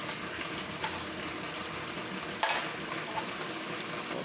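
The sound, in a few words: onions frying in a pan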